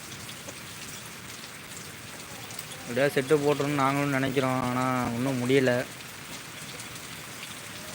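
Rain falls steadily on a cattle shed as a soft, even patter throughout, with someone speaking over it for a few seconds in the middle.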